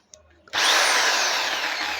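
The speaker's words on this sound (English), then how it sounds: "So this is how the drill looks like," An MPT 550W impact drill, plugged into mains power, switches on after a brief quiet moment and runs with a loud, steady, high-pitched whirring drone until the end.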